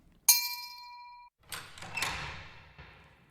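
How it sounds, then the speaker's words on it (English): A single hand bell rings once with a bright, ringing tone that sustains about a second before cutting off, followed by shuffling and rustling movement noises in a quiet room. "He raised his toes to the fire and rang his bell."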